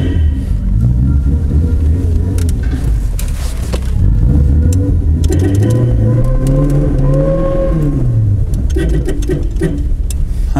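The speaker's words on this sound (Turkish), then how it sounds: "şimdi geldik aracın test sürüşüne" A Tofaş Doğan SLX car on a test drive, its engine droning loudly and steadily from inside the cabin, with pitch rising and falling as it accelerates and changes gear.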